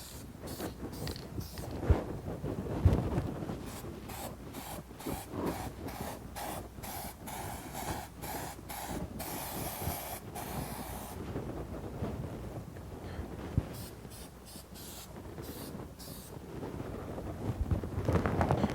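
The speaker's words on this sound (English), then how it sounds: "I'm actually going to spray just a tidbit of glue in there." Short bursts of aerosol glue are sprayed onto a show steer's hair during fitting, repeated soft hissing puffs, close and fairly quiet, with no talk.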